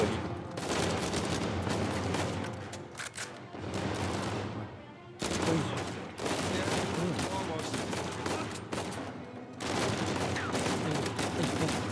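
Sustained gunfire in the Uncharted video game, with dense automatic bursts broken by short pauses, loud and continuous, alongside a player talking.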